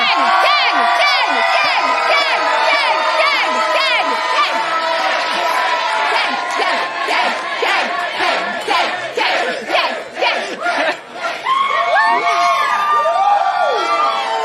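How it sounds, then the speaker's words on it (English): A large crowd on a red carpet at a premiere cheers, whoops and yells loudly and continuously, with shrill overlapping shouts and chanting that swell and dip, and an announcer's voice occasionally rising above the din. "What is it like to see this crowd yelling your name?"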